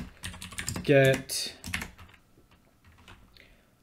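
Python code being typed on a computer keyboard, a close run of quick key clicks, loudest at the start and then thinning into scattered taps, while someone speaks briefly over the first part.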